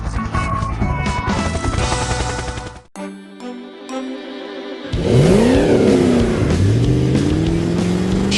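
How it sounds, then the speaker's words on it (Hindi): A purple monster truck engine revving up as it sets off, with rising and falling engine pitch sweeps that grow loud and close after a brief dip, layered over background music. "शहर की शांत सड़कों पर एक बैंगनी दानव ट्रक अपनी यात्रा पर निकल पड़ा है।"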